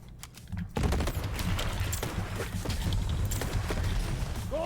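Rapid bursts of SMG fire in the Borderlands 3 video game, dense and loud. Fast automatic shots chatter almost continuously, with brief clicks and mechanical noises mixed in.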